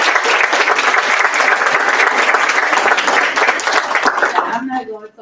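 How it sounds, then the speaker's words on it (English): Audience applause following a fireside chat, a dense burst of many hands clapping that holds steady for several seconds, then fades as a voice starts talking. "Let's please applaud all of us."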